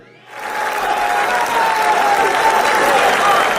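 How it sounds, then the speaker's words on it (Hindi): Applause from an audience welcoming a poet to the stage at an Urdu poetry gathering, bursting in after a brief quiet and holding at a full, steady roar. "भरपूर तालियों में तशरीफ लाते हैं जनाब तहसीब हाफी"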